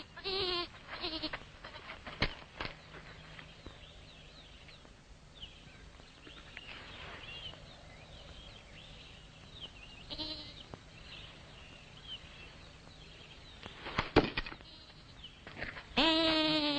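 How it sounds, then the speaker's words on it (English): Goats bleat in a farmyard, a few scattered calls over a quiet outdoor background, with louder, closer bleats near the end. "There are goats here."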